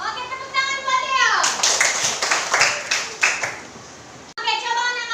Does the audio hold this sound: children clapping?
yes